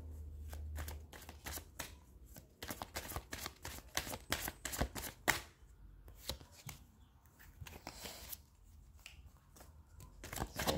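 Oracle cards being shuffled by hand, a close, quiet run of quick riffling bursts and soft card slaps in an irregular rhythm, with no talking.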